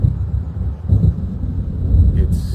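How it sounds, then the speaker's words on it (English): A low, steady thunder rumble of an approaching storm in the Alan Wake Remastered video game, continuous and fairly loud, swelling slightly with a brief higher rustle at the end. "It seems there's a storm coming."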